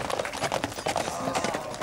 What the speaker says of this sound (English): The horses and riders here are competing